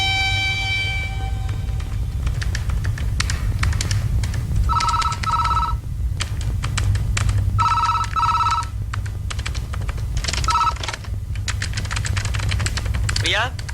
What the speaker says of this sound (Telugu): ప్రియా, నీకు ఫోన్.